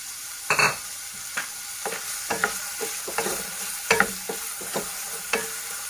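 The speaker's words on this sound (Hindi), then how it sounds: "अब ये प्याज फ्राई हो रहा है और हाफ फ्राई हो चुका है।" Four medium chopped onions fry in hot oil in a kadai over a medium flame, sizzling steadily beneath sharp scraping stirs from a spatula, close up and with no voices.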